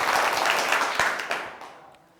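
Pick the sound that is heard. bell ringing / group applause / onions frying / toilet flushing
group applause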